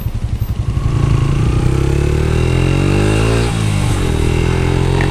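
A Yamaha YBR 125 commuter motorcycle accelerating on a test ride: a loud, close single-cylinder engine note climbs steadily in pitch through the revs, briefly drops at a gear change, then rises again.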